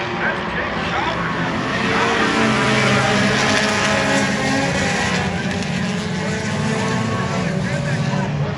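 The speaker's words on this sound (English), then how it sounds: "We got Nick Newton this time had a sizable lead in the field." Hornet-class race cars roaring around Lacrosse Speedway during an Oktoberfest feature, a loud, sustained wall of engine noise from a pack of cars with no break, and a track announcer talking over it.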